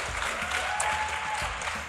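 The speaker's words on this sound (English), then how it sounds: "So a round of applause for Charlie" Audience applause for a contestant named Charlie at a Welsh talent search show, a steady wash of clapping from a crowd for about two seconds, dense and even with no speech over it.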